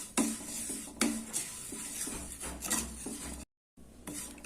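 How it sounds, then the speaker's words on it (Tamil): Vermicelli roasts in ghee in a pan as a spoon stirs it, making soft, fairly quiet scraping strokes at a loose rhythm over a light sizzle, with a short gap of silence near the end. "அதை போட்டு நல்லா கோல்டன் ப்ரௌன் அளவுக்கு வறுத்து எடுத்துக்கலாம்."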